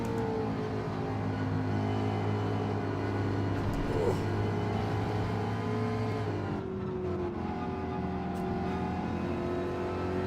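Race car engine in Gran Turismo 7 during a Gr.4 online lobby race, a steady droning hum that rises and falls slightly in pitch as the car is floored, continuous throughout with a player talking over it.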